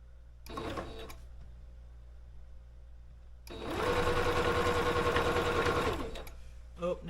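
Domestic sewing machine stitching in a quiet room, a brief burst of rapid rhythmic needle chatter followed after a pause by a longer, louder steady run of about two and a half seconds, with light handling clicks around it.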